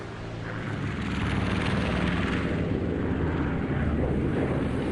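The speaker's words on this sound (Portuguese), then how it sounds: "O grupo de bombardeio retorna à base apenas com alguns arranhões da artilharia antiaérea." A group of World War II bombers flying back to base in the Pacific war after taking light anti-aircraft damage, heard as a steady, dense drone of propeller engines that holds at full strength for the whole stretch.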